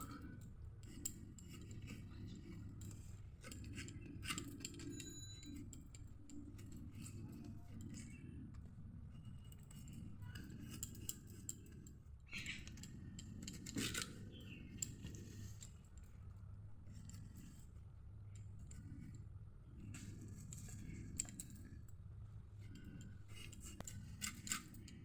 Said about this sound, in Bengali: এরকম করে গোল গোল করে কেটে নেব।